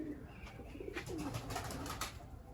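Pigeons returning from flight coo low and soft in a few short calls against a steady outdoor background, with faint rustling and no clear talk.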